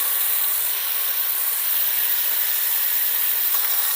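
Beef sizzling in a pan over very high heat, a steady close hiss with no talk, holding even throughout.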